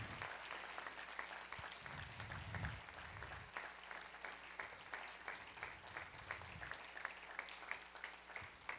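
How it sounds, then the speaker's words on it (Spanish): Congregation applauding in a church service, a steady, dense wash of many hands clapping at a distance, sustained for several seconds with little variation and no clear talk over it. "Démosle un aplauso al Señor como Él se lo merece"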